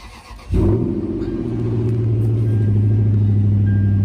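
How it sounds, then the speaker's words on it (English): A Toyota Sequoia V8 engine catches and rises into a deep, loud rumble, then settles into a steady throaty idle, close by. "it's a V8. Let's listen to it."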